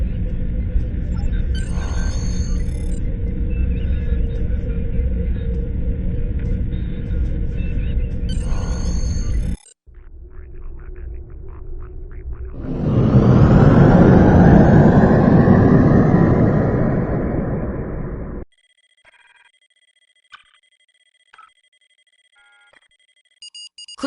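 Deep, steady rumble of starship thrusters in the space game Star Trek Online, a long sustained drone that swells louder midway with a brighter whooshing surge before cutting off, followed by sparse electronic beeps.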